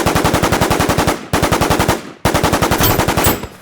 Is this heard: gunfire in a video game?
yes